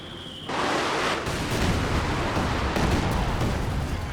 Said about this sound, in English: Panzerwerfer Barrage does roll a miss